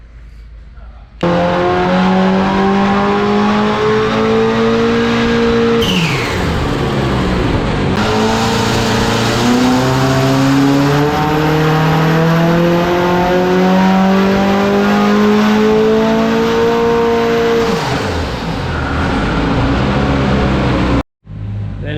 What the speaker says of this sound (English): It's now time to drain the fuel and put some ethanol in it and see what it's really going to do.